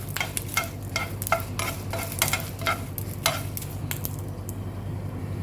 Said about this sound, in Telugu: ఈ దూరగా వేపుకోవాలండి ఎండుమిర్చి.